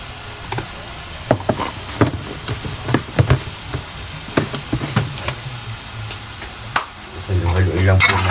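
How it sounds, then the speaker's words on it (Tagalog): Chicken wings for sinigang stirred in a pot, with a sequence of sharp spoon knocks and scrapes against the metal over a low simmering hiss, close and fairly loud, and a short burst of talk near the end. "Haluin lang po natin."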